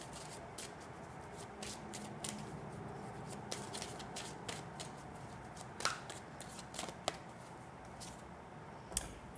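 Oracle of Fairies cards shuffled and drawn by hand, a soft continuous riffle of papery flicks with a few sharper snaps near the end, quiet and close with no voices.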